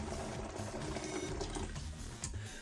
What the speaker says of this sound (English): we're going to add 1 litre of hot water